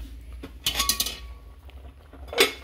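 A metal lid is set back onto a cooking pot of laswa vegetable stew, giving a sharp clattering clink followed by a faint ringing tone, then a second lighter clank a moment later, close and crisp in a quiet kitchen.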